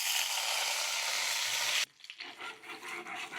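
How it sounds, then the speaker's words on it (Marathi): Eggs frying in hot oil in a frying pan, with a loud steady sizzle that cuts off abruptly, followed by quieter crackling and spattering. "आपण आता अंडे फ्राय करून घेऊ।"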